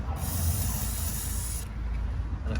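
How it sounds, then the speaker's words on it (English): A steady aerosol spray of grease hisses continuously for about a second and a half onto a car's clutch pedal pivot, then cuts off, leaving a faint low rumble. "I'm just going to spray the pivot for the pedal and all this around here with some spray grease."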